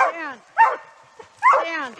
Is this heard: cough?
no